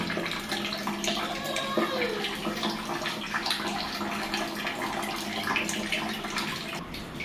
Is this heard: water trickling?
yes